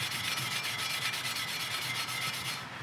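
Diamond sponge rubbing across the surface of pit-fired pottery, a close, fairly quiet rasping scrub repeated in quick, even back-and-forth strokes for about three seconds.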